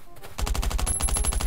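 Rapid automatic gunfire in the mobile survival shooter Last Island of Survival, a steady burst of about a dozen evenly spaced loud shots after a brief quiet start, with a thin high whine running beneath.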